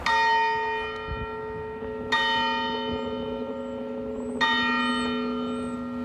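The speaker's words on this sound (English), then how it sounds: "Church bells toll" Church bells toll in a slow, ringing sequence at a former church that now serves as a brewery. Three strikes sound about two seconds apart, and each one hums on over a sustained resonance, with no talk.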